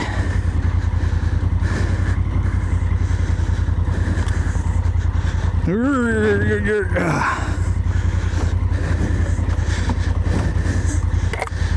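A Honda Africa Twin DCT motorcycle lugs along a single-track dirt trail, its engine a steady, close, low-pitched rumble that briefly revs and sweeps up in pitch about halfway through.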